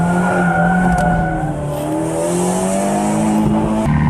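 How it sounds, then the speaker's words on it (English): An Abarth 124 Spider rear-wheel-drive roadster is driven hard, its engine loud and close with rising revs while tires squeal steadily through a corner. "the feeling you get from driving this rear-wheel drive roadster"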